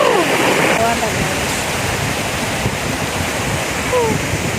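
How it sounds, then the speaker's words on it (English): A small waterfall flows steadily along a hiking trail, its broadband rushing close and constant throughout, with a few faint bird chirps and a voice speaking briefly under the water. "Yeah, this is another mini waterfall."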